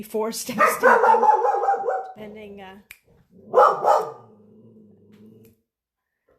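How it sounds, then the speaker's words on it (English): A dog barks indoors in a couple of loud bursts at someone walking on the street outside, with someone talking over and between the barks. "dog who doesn't wants to bark at somebody walking on the street"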